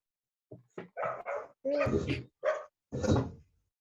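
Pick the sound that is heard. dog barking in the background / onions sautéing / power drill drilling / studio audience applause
dog barking in the background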